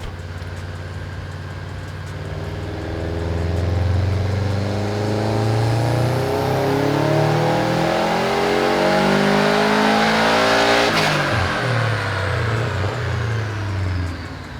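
A Subaru STI engine runs hard on a dyno at maxed boost, its loud close drone climbing steadily in pitch through a long pull before abruptly lifting off and falling away.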